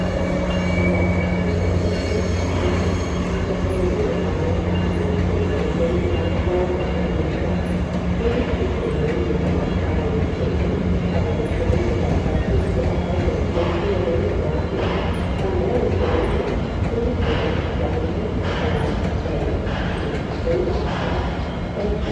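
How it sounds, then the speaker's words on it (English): A Virginia Railway Express deadhead train of double-decker cars rolls past, a loud sustained rumble with wheel squeal and rhythmic rail clatter continuing nearby for the whole stretch. "that's a Virginia Railway Express deadhead to Union Station"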